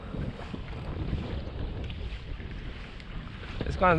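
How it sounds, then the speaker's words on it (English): Wind buffets a microphone aboard a fishing boat at sea, a steady low rumbling roar with the hull's motion beneath it, close and continuous. "The wind's actually calming down a little bit."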